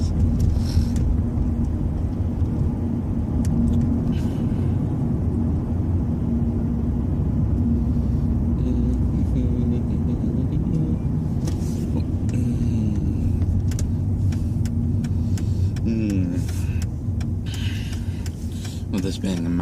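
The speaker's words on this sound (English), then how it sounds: "Once the car starts warming up and the oil's all gotten around, then we can give it some gas." A car engine idles and warms up, then pulls away into a steady driving rumble with road noise, continuous and close throughout, with a person talking over it.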